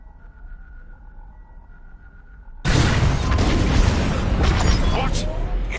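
Bombs detonate in a Star Wars: Squadrons space battle, a sudden loud burst that swells into a sustained roaring, crackling explosion, preceded by a low humming cockpit drone.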